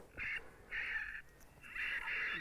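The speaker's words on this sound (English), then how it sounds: "Birds everywhere." Crows caw outdoors at night on Kansas open ground, three or four harsh, fairly loud calls in quick succession with short gaps between them.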